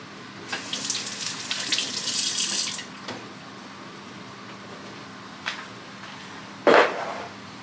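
Tap water runs into a kitchen sink for pot washing on a homestead, splashing steadily for about three seconds, then stopping, followed by a few scattered clunks and a louder knock near the end.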